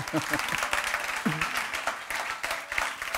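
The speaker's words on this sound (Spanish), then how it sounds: "gracias por este aplauso tan espontáneo" Spontaneous audience applause at the TCM-Zinemaldia encounters, a steady patter of many hands clapping, with a voice talking briefly over it at the start.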